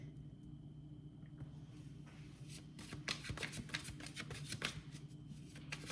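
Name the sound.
shuffling and drawing tarot cards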